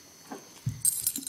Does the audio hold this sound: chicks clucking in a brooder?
no